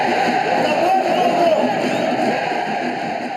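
Football stadium crowd cheering and urging on the team, a dense continuous roar of massed voices with a steady high hiss, loud and sustained for a few seconds.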